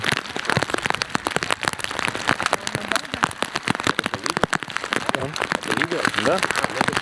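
Heavy rain downpour pattering densely on surfaces outdoors, a loud continuous crackling hiss of drops with occasional voices underneath.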